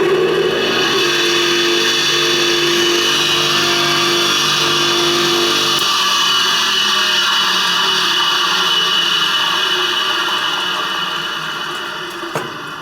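Restored Selecta 7-inch bench grinder motor runs loud and steady with a high whine and hum, its pitch shifting slightly midway before the sound tapers near the end.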